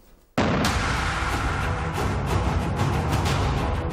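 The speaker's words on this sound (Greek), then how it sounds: "Περαστικοί κατέγραψαν καρέ-καρέ τις εικόνες από την πυρκαγιά και την έκρηξη που ακολούθησε." A burning car blows up in a street in Agia Varvara, caught on news footage. One sudden loud blast breaks the quiet, followed by a sustained roaring, crackling rumble with sharp pops.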